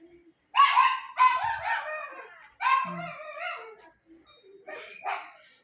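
A dog barks and howls in several loud, drawn-out bursts with short pauses between, close by and heard on its own.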